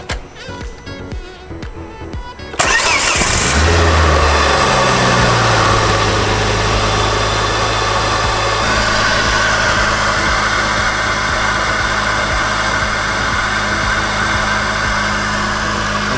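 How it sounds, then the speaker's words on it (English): A Ford Focus ST Mk2 fitted with an Airtec inlet plenum cranks briefly, fires up loudly and settles into a steady, close, buzzing idle. "let's get this car started"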